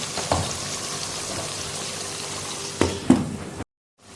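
Chicken sizzles steadily in a pan with masala, a soft continuous crackling fry with a few brief stirring clatters, ending in sudden silence.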